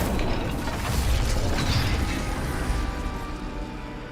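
A heavy gate mechanism in Hogwarts Legacy grinding shut, a loud sustained low rumble with rattling and clanking that slowly fades.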